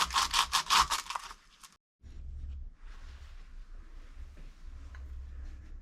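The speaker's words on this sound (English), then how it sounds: "So I'll just clean around the perimeter with the sandpaper" Sandpaper rubbing around the perimeter of a stripped front brake caliper from a Mini Cooper, clearing sticky rubber and rust. A burst of fast, loud rasping strokes comes first, then after a short gap a steadier, quieter scraping with a low hum underneath.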